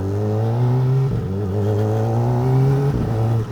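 A Kawasaki ZX4RR four-cylinder motorcycle engine while riding: a loud, close, steady engine drone that shifts pitch slightly as the throttle changes.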